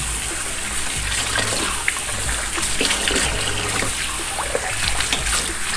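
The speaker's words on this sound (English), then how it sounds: "that water running is me washing my hands" Tap water runs steadily in a kitchen while hands are washed, a continuous broadband splashing hiss with faint clinks, close and fairly loud, no talk.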